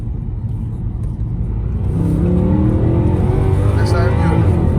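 A Mercedes C63 AMG engine revs up from a low rumble into a rising, loud accelerating roar, heard close from inside or near the car, with a voice briefly audible over it.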